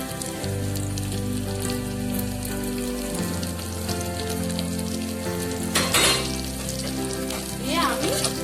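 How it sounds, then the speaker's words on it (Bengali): Pieces of fried eggplant drop one by one into hot spiced oil for a Bengali festive thali, raising a loud, dense sizzle that stays steady and swells briefly near the end. "একে একে সব বেগুনগুলো দিয়ে দেব।"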